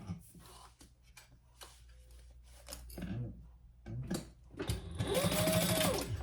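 Sewing machine stitching a seam that attaches a zipper to a waist pack, a close, fast mechanical whir rising in bursts, with quiet handling sounds between runs and a louder sustained stretch at the end.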